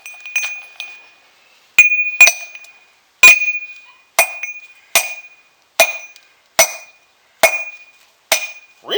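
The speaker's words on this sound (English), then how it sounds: "I'm expecting glass to break easier than that." Smelting-flux glass slag struck repeatedly with a hammer, about ten sharp glassy clinks and cracks spaced roughly a second apart, each with a bright ringing tone, fairly loud and close with no talking.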